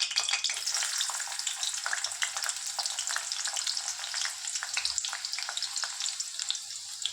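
Chopped onion crackles and sizzles in a little hot oil in a kadhai, with scattered pops and spatula stirring, steady and close with no talking.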